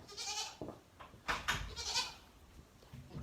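Young goats bleating, several short overlapping cries close by in fairly quick succession, with light rustling and handling noise in between.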